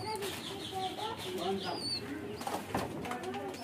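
Fancy desi mix pigeons cooing in soft, repeated low calls, faint and close, with someone talking quietly over them.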